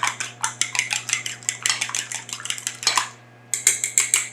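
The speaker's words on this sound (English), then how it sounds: "I have here 2 eggs, which I'm going to just lightly beat with a fork" Two eggs are lightly beaten with a fork in a bowl for muffin batter, producing fast, rhythmic metallic clinks that run steadily, stop for a brief pause, then resume, close and bright.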